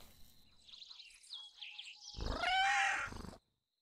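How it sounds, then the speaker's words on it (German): A cat in the horror video game We Harvest Shadows gives a single drawn-out meow near the end, after faint ambient game sounds, and then everything cuts to silence. "Die Katze ist immer noch da."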